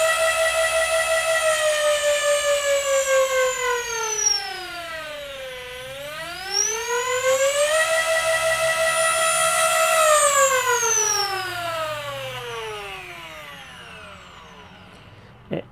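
Brushless flywheel motors in a modded Nerf Stryfe Swordfish blaster with adjustable RPM whine loudly, a tonal motor pitch that sweeps down, bottoms out, then climbs back up and holds before tapering off.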